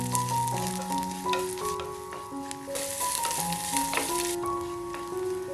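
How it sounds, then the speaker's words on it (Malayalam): Green chilies and chopped shallots frying in hot oil for a Kerala-style moru curry, a steady soft sizzle mixed with occasional stirring clinks, with melodic background music playing throughout. "എല്ലാം എണ്ണയിലൊന്ന് ചൂടാക്കിയിട്ട് എടുക്കാം."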